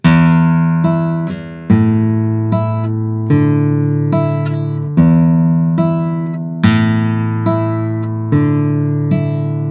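Plucked Spanish guitar strings in a steady repeating pattern, a low bass note on the fourth string struck on each beat with higher notes ringing after it, close and clear.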